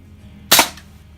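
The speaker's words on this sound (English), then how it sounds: "So this one, the 177 rifle against the face mask." .177 air rifle pellet striking a face mask: a single sharp, loud crack at close range with a short fading ring, alone in quiet backyard surroundings.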